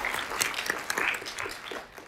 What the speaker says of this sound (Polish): Proszę o klaski,